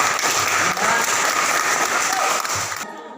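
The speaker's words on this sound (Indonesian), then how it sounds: "Ya, kita berikan aplaus." Classroom applause for a student group presentation, steady clapping from a crowd of students filling the room, continuous and fairly loud before cutting off abruptly near the end.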